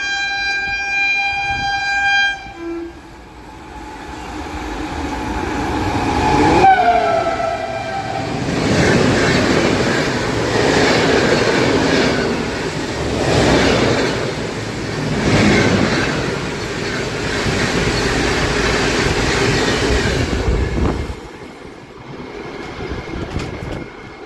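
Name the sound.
Shan-e-Punjab Express train with WP4 locomotive passing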